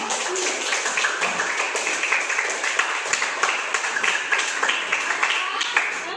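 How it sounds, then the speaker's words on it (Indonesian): Audience in a school science debate applauds both debating groups, a steady dense wash of many hands clapping throughout at moderate loudness, with faint voices underneath. "Oke, kasih tepuk tangan untuk kedua kelompok."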